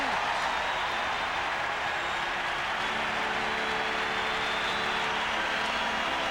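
Roaring hockey arena crowd at a 1990–91 Calgary Flames at Pittsburgh Penguins NHL game, cheering after a Joey Mullen goal: a dense, sustained wall of crowd noise, loud and steady throughout with no letup.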